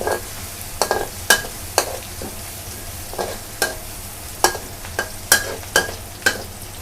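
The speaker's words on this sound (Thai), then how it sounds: "ผัดให้หอมเลยค่ะใช้ไฟปานกลางค่ะ" Fresh chili and garlic are stir-fried over medium heat in a pan: a soft sizzle runs underneath while sharp spatula scrapes strike roughly a dozen times at an irregular, brisk rhythm, close and without talk.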